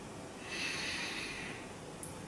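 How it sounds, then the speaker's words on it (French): A single slow, deep belly breath taken for relaxation, a long soft airy rush close to the mic that swells and then fades, with no talking. "par cette fameuse respiration ventrale, respiration de relaxation"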